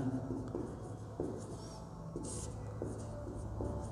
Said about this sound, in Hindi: तो लिखेंगे यूक्लिड विभाजन